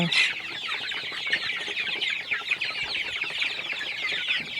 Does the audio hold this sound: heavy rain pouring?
no